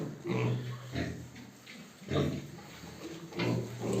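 Piglets bought for raising grunt and oink in short repeated bursts, close by, with soft snuffling between the calls.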